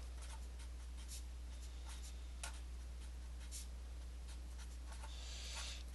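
A pen or pencil writes on paper in quiet strokes and taps, faint and close over a low steady hum, with no voices.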